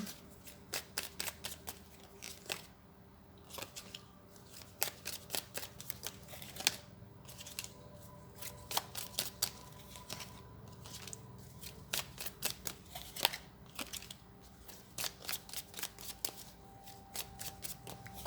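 Tarot cards are shuffled for a reading in a rapid, continuous stream of crisp riffles and card snaps, close and fairly quiet, with no one speaking.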